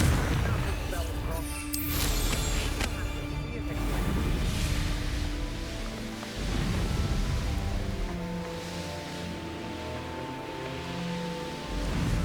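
The Confringo blast spell erupts in the video game Hogwarts Legacy as a loud burst of booming, crackling explosions, followed by rumbling game ambience and music.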